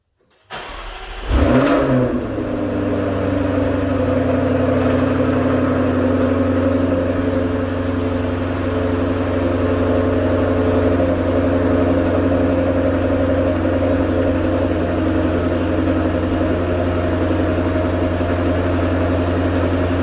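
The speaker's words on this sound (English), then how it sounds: "I'm gonna do a cold start on my Jaguar with the air filters" A supercharged 5.0 V8 in an AWD Jaguar F-Type R with BMC race air filters fires from cold: a sharp crank and loud flare-up, then a steady, close, rumbling high idle that continues unbroken for the rest of the clip, with no voices.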